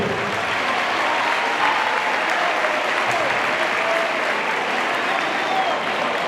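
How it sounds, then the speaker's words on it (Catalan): Audience applause at a basketball club's season presentation, a steady, even wash of clapping from a crowd with faint voices underneath throughout. "Jo crec que s'ha guanyat un aplaudiment"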